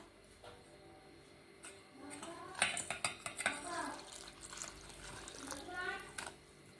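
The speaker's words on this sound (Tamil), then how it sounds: "தேங்காய் பால் ஊற்றி இப்போ இது சர்க்கரை நல்லா கரைச்சி எடுத்துடலாம்" Powdered sugar being stirred into coconut milk in a bowl for achu murukku batter, giving soft clinks and scraping of a spoon against the dish with brief sloshing, moderately quiet with some faint talk.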